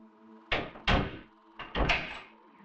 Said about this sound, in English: The detective would lock the door and leave to go determine what they should do with Adlai.